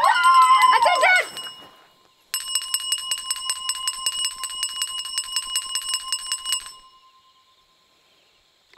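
Rapid ringing of a bell at a camp, a loud burst after a voice call, then a steady metallic clatter of strikes for about four seconds before it fades out.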